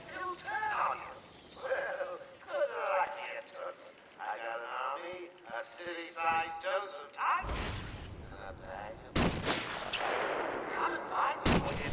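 Sniper gunfire rings out in the Batman: Return to Arkham Asylum video game as a few loud, sharp blasts over a busy game soundscape, with someone talking throughout.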